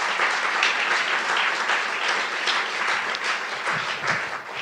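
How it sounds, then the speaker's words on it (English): An audience at the close of a talk at the INEXPERT 2018 event keeps up a full, continuous round of applause from a large crowd, steady and fairly loud throughout. "So a big round of applause for the audience"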